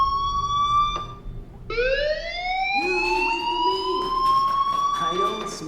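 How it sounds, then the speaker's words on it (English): Fire alarm ringing in the video game Life Is Strange Remastered, a loud electronic tone that cuts off, then returns as a rising, wavering wail, with other game sounds joining near the end. "Hey, do you hear that fire alarm?"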